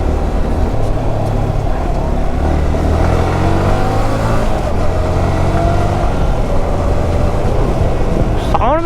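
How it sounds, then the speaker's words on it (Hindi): A KTM Duke 390 motorcycle at high speed, its engine droning loud and steady under heavy wind rush, with rising and falling engine tones close by and a sharp whine near the end. "बहुत तेज साउंड आ रहे भाई बाइक के।"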